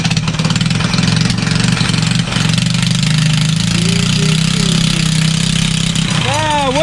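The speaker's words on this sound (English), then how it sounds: "Well, I'll get this go-kart going right here." A drift go-kart engine runs loud and close after starting, a rough rapid idle with revving that rises in pitch near the end.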